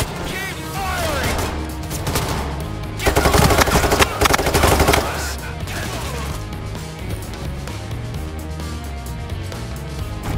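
Sustained automatic gunfire from a Payday 3 heist shootout against a hostage rescue team, dense rapid bursts over a constant low rumble, peaking in a loud cluster of shots midway before settling back into steady firing.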